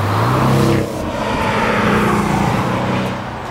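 A 2016 Porsche 718 Cayman S with its four-cylinder engine drives past up close, a loud, steady engine drone with a rising note early on and a constant rush of road noise.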